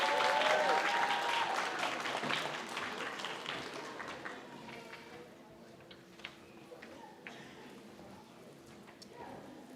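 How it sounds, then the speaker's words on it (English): Graduates at a continuing education achievement ceremony applaud their supporters; the clapping is fairly loud at first and gradually thins and fades into scattered, quieter claps as it tapers off. "graduates, if you could please give a round of applause to those who supported you."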